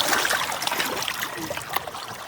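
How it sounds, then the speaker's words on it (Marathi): Small waves lapping on the shore of a dam lake near Jawhar, a continuous soft wash of water with faint splashes, close and steady under outdoor ambience. "या लाटा बघा, या लाटा बघा. Guys, can you feel the sound of this lata?"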